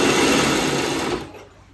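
A sewing machine stitches a quilt made from old saris, a close, fast mechanical whir that runs for about a second before winding down and stopping.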